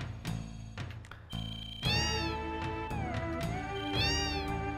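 Cats meow repeatedly inside a cat house in the video game Final Fantasy VII, with several drawn-out, rising and falling cries layered over a soft game background tone.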